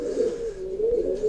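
A pigeon's low, rolling coo up close, one continuous throaty warble lasting just over a second, from pigeons crossed with racing homers.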